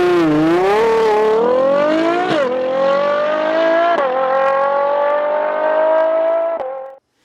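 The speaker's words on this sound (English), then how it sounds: "the kind of high-revving combustion character that only a naturally aspirated 12-cylinder can deliver" A naturally aspirated V12 engine in a four-door luxury car producing 715 horsepower revs hard, its loud, close, high-pitched wail climbing through several gear changes before cutting off abruptly.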